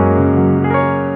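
Sustained, rich sampled grand piano tone called Velvet Grande, played on a Nord Stage 3 stage keyboard, with chords ringing steadily at close, even loudness and no talk.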